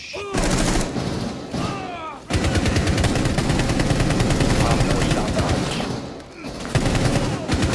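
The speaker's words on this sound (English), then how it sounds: "They shot the hostage! They shot the hostage!" Loud, rapid automatic gunfire in Rainbow Six Siege, dense sustained bursts with a brief pause, and a voice shouting briefly at the start.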